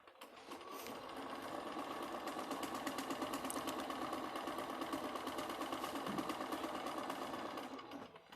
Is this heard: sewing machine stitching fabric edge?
yes